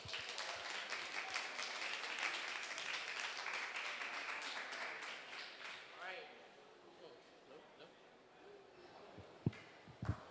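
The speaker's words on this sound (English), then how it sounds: "Let's give her another round of applause." Audience applause after a talk on developing youth leaders, a sustained wash of clapping for about six seconds that fades away, followed by quieter room sound and a few stray knocks.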